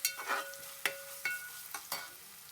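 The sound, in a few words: stirring fish curry with tomato in a pan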